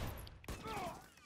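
A short burst of gunfire, a quick cluster of sharp cracks with a heavy thud partway through, close and fairly loud.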